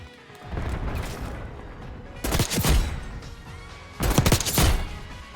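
Gunfire in the shooter Black Ops 6, with three loud bursts of shots and impacts, the second and third hard and close, over a steady background of game ambience.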